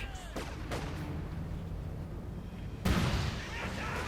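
Gunfire and grenades in a Company of Heroes 2 1v1 match, with sniper, MG42 and rifle grenade fire as scattered sharp bursts and a heavier blast near the end, under a talking voice.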